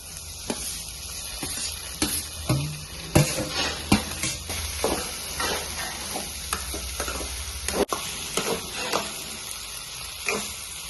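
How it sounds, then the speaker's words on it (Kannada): Okra stirred in a hot pan with garam masala, sizzling steadily throughout with repeated scraping strokes of a spoon against the pan, close and fairly loud, no talking. "ಇವಾಗ ಇದಕ್ಕೆ ಬೆಂಡೆಕಾಯಿ ಹಾಕಿ ತಿರುಗ್ತೀನಿ ನೋಡ್ರಿ"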